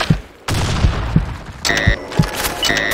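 Grenade blasts and gunfire in the shooter game Blackshot, several heavy booms and thuds spaced through a noisy firefight, with bright electronic tones in the background.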